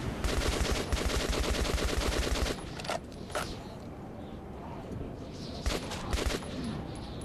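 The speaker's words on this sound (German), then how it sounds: "Verschießt natürlich jetzt sehr schön unsere ganze Munition wieder." Rapid automatic gunfire from the video game Metro Redux, a dense burst of shots for about two and a half seconds, followed by a few scattered single shots and quieter clanking amid the background game ambience.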